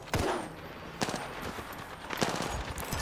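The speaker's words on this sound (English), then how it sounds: "Team firing." Bursts of automatic gunfire from a squad firing in the Apex Legends battle game, several rapid volleys at roughly one-second intervals, loud and close over a busy background.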